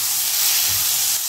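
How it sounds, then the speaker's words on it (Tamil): Tomatoes sautéing in a long-used cooking pot give a loud, continuous sizzling hiss for a brief stretch, close by with no talk. "தக்காளி நல்லா கொலைய வதக்கிடணும்."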